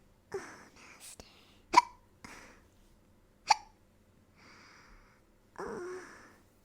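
A person hiccups repeatedly: several sharp, abrupt catches spaced a second or two apart, close and clear, interspersed with soft breathy vocal sounds in an otherwise quiet room.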